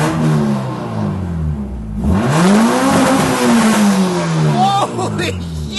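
A Honda car engine that had sat unused for a long time revs hard, climbing in pitch through a long rising wail and dropping back, loud and close, with excited voices exclaiming over it.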